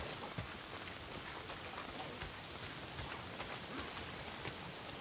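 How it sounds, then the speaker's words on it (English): Rain falls steadily in the video game Days Gone, a soft, even hiss of drops spattering on surfaces, faint and continuous without pause. "If it's not the freaks, it's the goddamn rain. Why is it always raining?"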